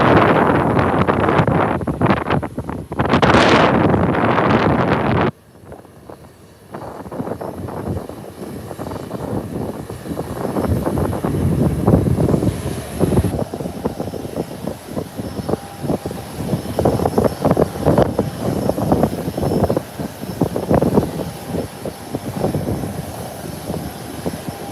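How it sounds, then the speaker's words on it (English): An American Airlines airliner comes in to land near a fire station, its engines a loud, broad, sustained roar mixed with wind buffeting the microphone for most of the clip. "Here comes a landing."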